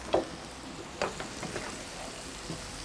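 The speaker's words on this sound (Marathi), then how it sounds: "कोबू छानपैकी तेलात परतून घेते" Shredded cabbage sautés in hot oil, a soft steady sizzle with a few scraping stirs and light knocks of a utensil against the pan, close and fairly quiet.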